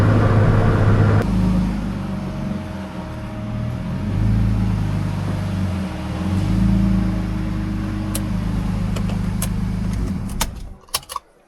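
BMW E46 engine droning and revving through a wet drift in the rain, heard from inside the car: a loud sustained engine note that rises and falls for about ten seconds, then cuts off abruptly, followed by a few short clicks.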